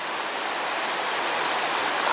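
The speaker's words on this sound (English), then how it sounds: "The stream is pretty though. Water's nice and cold." Cold mountain stream near a campground rushing steadily and close, a dense continuous broadband wash of flowing water with no talk over it.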